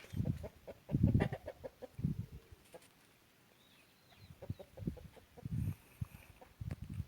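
Several free-range country chickens cluck in short bursts close by on a farm, with a brief lull in the middle before the clucking picks up again.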